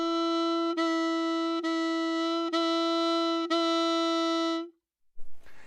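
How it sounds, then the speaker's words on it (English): Saxophone playing a steady, sustained tone, re-tongued several times in legato style so each note joins smoothly into the next, clear and close, ending with a brief breathy noise. "So you tongue a note and then you play the note for the whole length, and then you tongue it again, which sounds like this."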